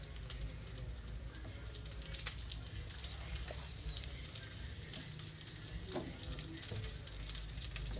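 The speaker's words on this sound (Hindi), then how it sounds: "अब ये मैं इसमें मिर्चें डाल रही हूँ" Green chillies fry in hot oil with a steady, dense crackling sizzle throughout, punctuated by a few louder pops and stirring scrapes close by.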